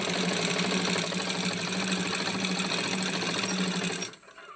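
A sewing machine runs steadily while stitching the handle onto a fabric bag, a loud continuous rhythmic whir that stops abruptly near the end.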